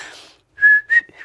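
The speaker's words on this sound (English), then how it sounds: "That was me whistling in, and here's me whistling out" A person whistles a few short, clear tones, a sustained pitch and then a quick pair of notes, close and alone with breathy air at the start.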